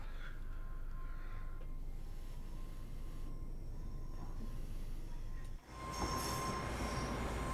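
A train pulling away in Train Sim World 5 on the West Cornwall local line: a steady rolling rumble with faint wheel squeal, then a louder surge of rail noise and screech as it moves off.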